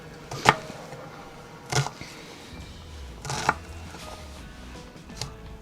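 A few sharp knife chops on a cutting board as an onion is diced into cubes, spaced irregularly over quiet room tone, with a faint low hum in between.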